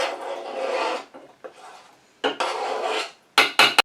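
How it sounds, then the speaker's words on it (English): Apple pie filling is scooped from a wide-mouth jar into a pan, heard as several close scraping and rasping strokes of a utensil, with short clinks and pauses between them and no voices. "I'm just going to put this in my pan and heat it up."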